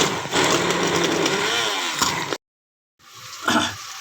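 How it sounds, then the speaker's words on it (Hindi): Loud, steady motor whir of a hand blender roughly blending a homemade mixture with a little water for a mutton karahi, cutting out briefly before starting again in a shorter burst. "बस इतना हैंड ब्लेंडिंग रफली कर देंगे"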